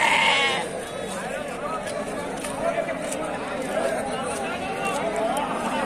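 At a busy sheep and goat market in Tumakuru, a two-day-old male goat kid bleats in several wavering cries, mixed into a steady crowd murmur and nearby chatter.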